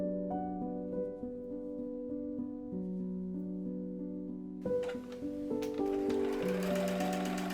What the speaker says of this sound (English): Afterwards, sew the seam.